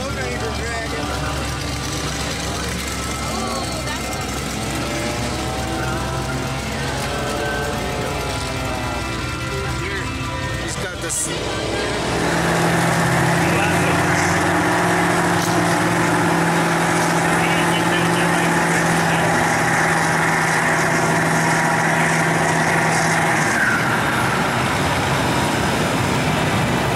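The engine of a big monster truck, King Krush, roars and drones steadily while it churns through a mud bog. Its tone shifts partway as it revs into a sustained, loud bellow, with voices talking over the din.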